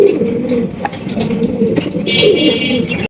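A male white lakha pigeon coos close by in low, rolling repeated calls, with a brighter chirp or squeak breaking in toward the end and no talk over it.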